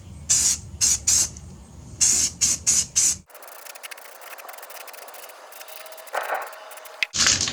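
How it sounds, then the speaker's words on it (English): Short hissing bursts of an aerosol can spraying primer onto a Craftsman repeat in quick succession, then a steadier hiss follows with faint handling noises. "We're about to spray a little primer on"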